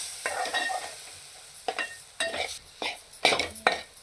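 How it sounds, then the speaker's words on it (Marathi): Semolina and coconut roast in a pan with soft sizzling and repeated scraping strokes as the mix is pressed down, arriving in short separate bursts against a quiet background. "असं आपण व्यवस्थित दाबून दाबून त्याला व्यवस्थित भाजत राहायचं"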